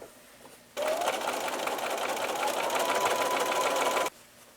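A sewing machine stitches a seam on a double four-patch quilt block in one steady burst of a few seconds, a loud close whir with rapid needle ticking, heard alone.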